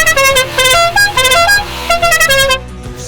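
A Polonez car's horn plays a loud, close, multi-note melodic tune with steady repeated tones lasting about two and a half seconds, then cuts off, leaving faint low rumble behind.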